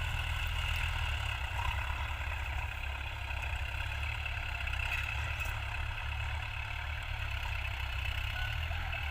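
A new farm tractor bought this year drones steadily while plowing a field, its low engine rumble constant and fairly distant for the whole stretch with no talk.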